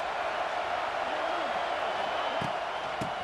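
A stadium crowd at a football game makes a steady, continuous roar that fills the space without a break.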